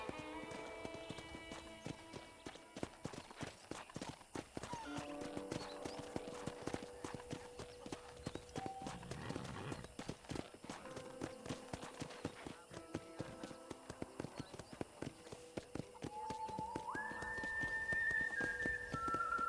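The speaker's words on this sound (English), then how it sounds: "Okay, let's see if you can still ride a horse." A horse's hooves clip-clop steadily at a walking pace while riding in Red Dead Redemption on Nintendo Switch, with a character talking over them and a whistle rising near the end.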